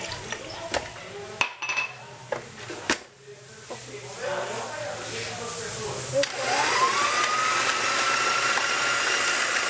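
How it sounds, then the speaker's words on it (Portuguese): An electric stand mixer whips cream for a dessert, starting after a few clinks and knocks of utensils and bowls, then settling into a loud continuous whirring hum that grows slightly stronger. "depois colocar a nata na batedeira"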